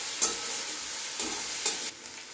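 Garlic and green chili paste sizzles in a hot pan, a steady close hiss broken by a few soft bursts as it is stirred.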